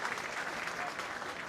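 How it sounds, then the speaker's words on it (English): Crowd applause at a Northampton v Harlequins rugby match as the Northampton replacements come on, a faint steady wash of clapping in the background of the stadium. "Applause in the background for the Northampton replacements"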